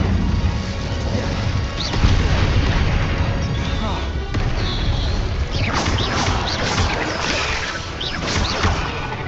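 Incendio fire spells cast during combat in the video game Hogwarts Legacy, a continuous roar of crashing, whooshing blasts and impacts that stays loud throughout, with voices shouting over the battle.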